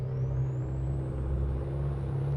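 A low, steady diesel engine drone rumbles continuously with a faint rising whine above it, from a car in the racing game Assetto Corsa.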